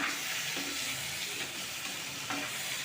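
Dried stingray fish and garlic frying in a pan, a steady close sizzle with faint stirring scrapes and no talk.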